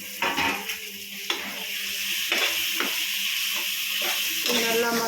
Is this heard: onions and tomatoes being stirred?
yes